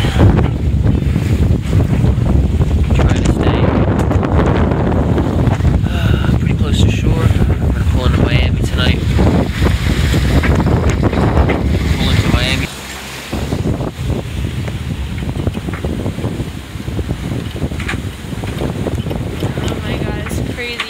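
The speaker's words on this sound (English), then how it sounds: "Got some 19 knots of wind." Strong 19-knot wind blows across a sailboat at sea at night, a loud continuous roar of wind buffeting the microphone, with rushing waves beneath it that ease slightly partway through.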